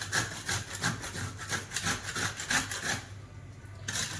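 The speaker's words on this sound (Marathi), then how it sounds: "आता हे चांगलं मोठ्या किसणीने चांगलं किसून घ्यायचं।" Coconut is grated on a large hand grater in a series of quick, rhythmic scraping strokes, close and moderately loud, that stop about three seconds in, leaving a brief quiet pause before one last scrape.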